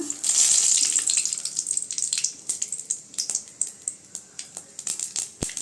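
Mustard seeds sputtering in hot oil while cooking a Tamil cabbage kootu, a hissing sizzle that starts loud and breaks into scattered sharp pops and crackles.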